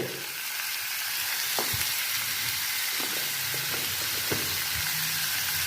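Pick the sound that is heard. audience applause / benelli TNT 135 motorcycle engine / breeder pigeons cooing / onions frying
onions frying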